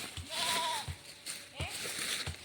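A goat bleats close by, with two wavering cries a second apart. Short thumps and rustles come in between.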